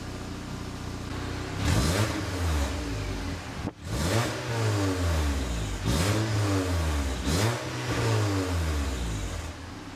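Car engine fitted with an exhaust diffuser revs repeatedly, several rising and falling throttle blips close by, fairly subdued, alone without talk.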